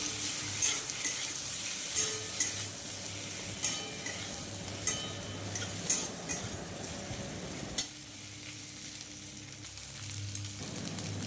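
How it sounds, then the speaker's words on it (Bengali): Taro and potato frying in a pan with chilli powder and turmeric, a steady sizzle under repeated scraping stirs and light clinks of a utensil against the pan, close and fairly quiet, no talk. "এটাকে আবার একটু ভালো করে ভাজা ভাজা করে নেবো"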